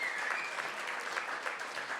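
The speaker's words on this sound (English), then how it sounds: "Please give Ted a big round of applause." An audience at the Australian Folk Music Awards applauds steadily and evenly throughout, a dense wash of clapping from a large crowd.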